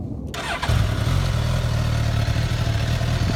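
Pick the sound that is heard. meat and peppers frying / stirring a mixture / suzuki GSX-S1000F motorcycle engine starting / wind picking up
suzuki GSX-S1000F motorcycle engine starting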